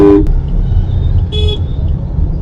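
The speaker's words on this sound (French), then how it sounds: "C'est une route un peu hectique là, on s'approche du centre, ça klaxonne beaucoup." Car horns honk on a hectic, busy road near the centre of Varanasi, India, over a loud rumble of traffic. One short toot comes at the start, followed by a brief higher beep midway.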